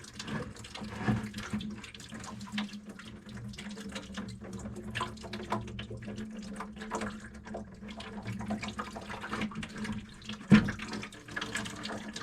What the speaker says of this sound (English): We're just gonna let that drain out for a second, and then once it stops dripping, we're going to unscrew the filter.